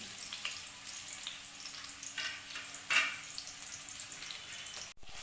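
Chopped ginger and garlic fry in hot white oil, giving a soft, steady sizzle with faint stirring scrapes and a brief clatter near the end.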